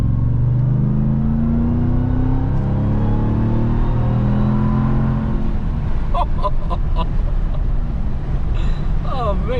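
A 2021 RAM TRX pickup accelerates hard, its engine roaring and rising in pitch for several seconds before easing off, heard from inside the cab with a steady loud drone.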